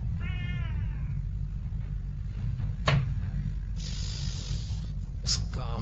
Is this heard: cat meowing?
yes